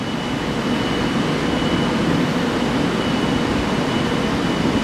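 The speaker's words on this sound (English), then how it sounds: "There, this train's pulling out." A Long Island Rail Road commuter train heading toward Penn Station pulls out of a station, giving a steady, loud, broadband rumble and roar that holds throughout with no talk.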